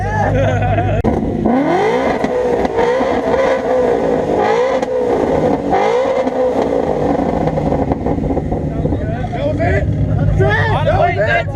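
A Nissan Skyline R34 revs loudly at a crowded open house, its engine surging and falling in repeated bursts beneath a noisy crowd of chattering voices.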